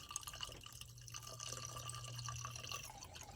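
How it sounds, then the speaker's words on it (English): Distilled water poured into the radiator of a Suzuki SV650 track motorcycle, a quiet continuous trickle and splash with faint dripping, alone and close. "time to fill with some water"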